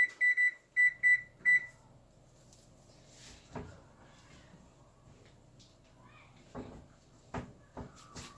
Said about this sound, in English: Let me go ahead and set a timer.